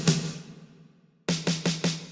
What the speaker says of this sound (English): I have the snares,